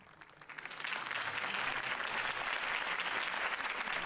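Crowd applause at a mayoral campaign rally in the Batman Telltale video game swells over the first second into dense, sustained clapping that stays loud and even to the end.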